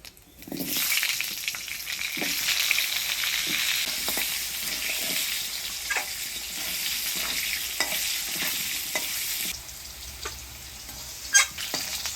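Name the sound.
potatoes frying in oil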